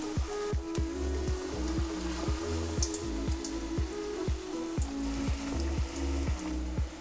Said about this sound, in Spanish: Las rebozamos muy bien y van a la fritura profunda.